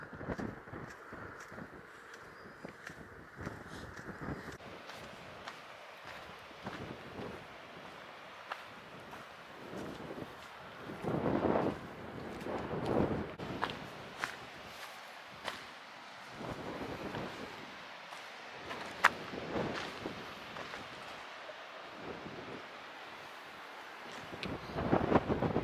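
Strong wind buffets the microphone on the Cornwall coastline, a continuous broadband rush with irregular gusting bursts and low rumbles throughout, no talking.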